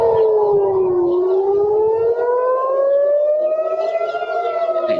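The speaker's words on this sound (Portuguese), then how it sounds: "O momento exato em que as sirenes tocaram ao redor de Israel" Civil defense air raid sirens sounding across Israel, a loud wailing tone that dips then slowly rises and holds, with fainter overlapping sirens behind it and no voices.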